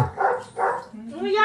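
A young child imitates a dog, giving a few short barking and yipping sounds close to the microphone. The playful vocal barks come in quick bursts.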